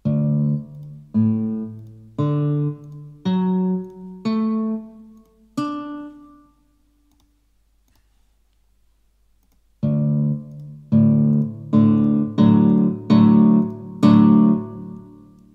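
MuseScore 4 playback of guitar tab notes in open D tuning: plucked synthetic guitar notes, a run of six then a pause, then six more ringing notes with a final chord, clean and alone.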